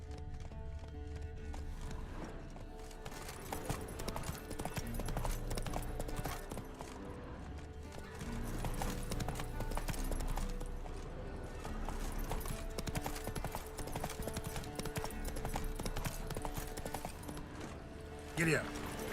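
Horse hooves clip-clop at a gallop in The Witcher 3, a quick continuous rhythm with occasional whinnies over game music and effects, while someone speaks at times.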